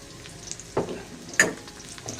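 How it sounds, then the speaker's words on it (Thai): Garlic and onion stir-frying in a pan for a squid and salted egg dish, a soft steady sizzle broken by a few louder scrapes and stirring clatters near the start and middle, with no voices. "ตามด้วยหอมใหญ่ก่อน สไตล์ผมนะ ผมจะใส่หอมใหญ่ด้วยนะครับ"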